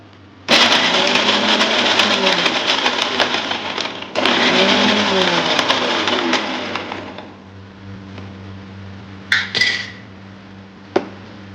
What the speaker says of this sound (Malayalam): ഈ ബദാമും അണ്ടിപ്പരിപ്പും കൂടി ഒന്ന് പൊടിച്ച് വെക്കണം